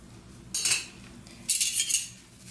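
Silverware being mixed with soap: two bursts of metallic clinking and rattling as spoons and utensils jostle together, close and moderately loud, with quiet gaps between and no voices.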